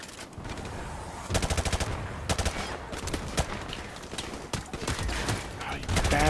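Rapid bursts of automatic gunfire in Call of Duty 4 Remastered, several sharp volleys crackling over a busy battle din, with voices speaking beneath the shooting.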